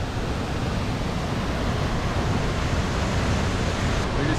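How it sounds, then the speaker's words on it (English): Large waterfalls beside a hiking trail in Algonquin Park rush in a steady, loud broadband roar, constant and unbroken throughout, with no voices over it. "We're just here at the waterfalls."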